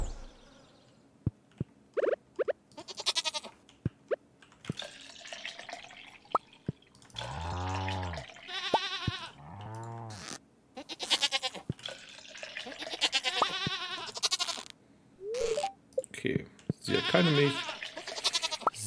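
Goats bleat in the farming video game Stardew Valley, with two long wavering cries in the middle among scattered short clicks and game sound effects, clear and close with no talk over them.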